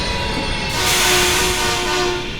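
A train rumbles past in the video game Gotham Knights, a loud sustained roar that swells midway with a steady tonal whine over it, no voices.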